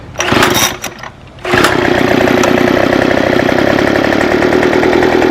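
A Craftsman B210 25cc 2-cycle gas leaf blower sputters briefly, then catches and runs steadily at a loud, close buzzing idle with no throttle applied.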